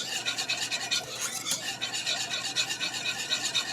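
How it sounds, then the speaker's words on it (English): A whisk stirs Dijon mustard sauce in a pan on the stove, a quick, steady scraping rhythm of strokes against the metal, close and continuous with no talking. "I'm gonna take my whisk and I'm just gonna whisk it up a little bit"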